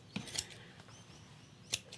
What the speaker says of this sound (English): it's important to have sharp scissors, so that you can saw through all these pieces at once